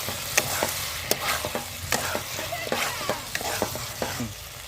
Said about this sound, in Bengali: পনিরগুলো দিয়ে ভালো করে কষে নিয়ে তারপর আমি জল দিয়ে দেবো